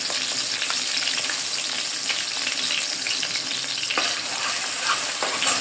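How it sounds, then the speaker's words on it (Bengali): Sliced onions with bay leaves and whole garam masala fry in hot oil for bhuna khichuri, making a loud, steady sizzle with brief crackles and stirring scrapes, no voices. "পেঁয়াজ ভাজা হয়ে গেছে"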